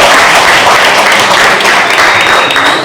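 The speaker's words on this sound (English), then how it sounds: "everybody give him a round of applause" Loud, continuous applause from an audience at a coding workshop, dense clapping rolling on for a few seconds and tapering slightly at the end.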